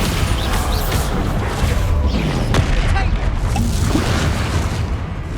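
Continuous loud booming and crashing from spell combat in the video game Hogwarts Legacy, with a dense, rumbling blast-filled wash and no gaps, a Bombarda explosion spell among the impacts, and a voice partly under it.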